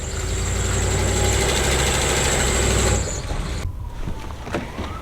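Ford Econoline Club Wagon van engine idling with a fresh transmission fitted, a loud steady low rumble for about three seconds before dropping to a quieter, rougher hum.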